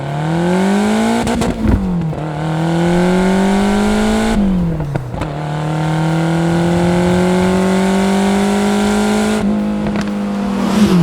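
A Lotus Esprit V8 engine revs hard and loud, climbing in pitch, dropping briefly at each gear change, then pulling up again, close and steady.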